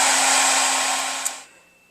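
A handheld hair dryer runs with a steady, loud airy whir while it heats the front sight of a Kel-Tec Sub2000 carbine, then shuts off and spins down into quiet near the end.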